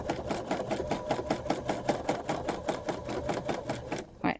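A sewing machine doing free-motion quilting runs in a close, steady, rapid stitching rhythm of regular mechanical pulses, then halts near the end.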